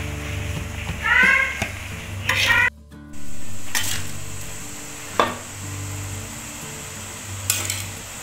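Noodles with spring onion and celery are stir-fried in a pan, giving a steady sizzle with scraping and clinking of a utensil against the metal, and a few sharp knocks.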